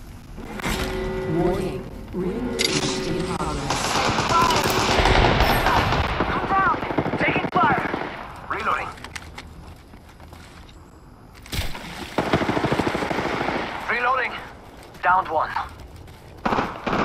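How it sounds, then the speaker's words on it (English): Rapid bursts of gunfire pound a ship in the Apex video game, loud machine-gun rattles coming in clusters with short pauses between them, while a voice talks over part of it. "The ship gets shot at."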